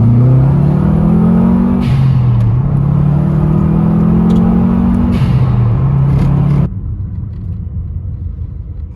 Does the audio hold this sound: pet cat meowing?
no